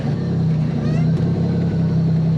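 A car fitted with a grabby stage 3 clutch idles with a steady low engine drone as it eases away in first gear, loud and continuous throughout with no talking.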